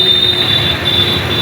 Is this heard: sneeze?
no